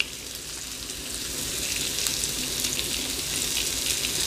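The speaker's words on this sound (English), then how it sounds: "we're going to let them fry in the garlic powder" Potatoes fry in garlic powder in a pot with a steady, broadband sizzle that swells slightly louder midway and holds, close and alone with no talk.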